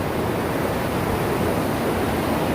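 A creek pours out of a culvert in a small waterfall, a loud, steady broadband rush of falling water with no pauses and no voices.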